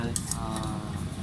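A 750 ml ultralight camping cook pot being handled, its metal clinking and rattling in a few brief bright knocks under a steady voice speaking.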